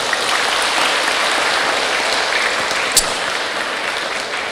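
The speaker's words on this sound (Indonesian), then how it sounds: "Boleh sekali lagi tepuk tangan untuk beliau." A crowd at a general Islamic religious lecture breaks into sustained applause for the speaker, a dense steady clatter of many hands that holds evenly throughout with no talking over it.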